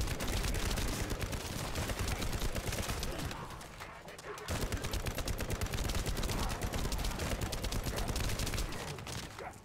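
Sustained automatic gunfire fills a video game battle, rattling in rapid, dense bursts with one brief lull midway before the shooting resumes just as loud.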